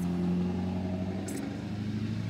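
A truck rumbling past on a road, a steady low engine drone held close throughout with a brief hiss partway through, no voices.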